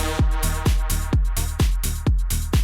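Synth notes played in Serum with a delay effect automated to about half toward the end of each note, giving six punchy, evenly spaced hits whose echoes fill the gaps between them, loud and alone.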